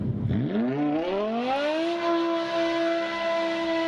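A 5-liter V10 that revs past 8,000 RPM sweeps up from a low growl to a sustained high wail, loud and close, holding the peak for the last two seconds.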